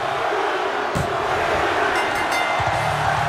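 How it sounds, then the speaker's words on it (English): A video game wrestling crowd chants in a steady, dense roar that fills the arena from start to finish, with a few brief louder swells. "The crowd chanting one more time."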